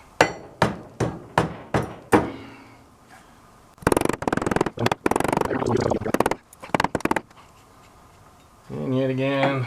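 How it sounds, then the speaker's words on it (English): Hammer strikes on a Polaris RZR 800 front and rear A-arm bushing: a fast series of seven sharp metal knocks, then a denser burst of banging, ending with a voice speaking. "I just got my little beater hammer here and I just beating on it"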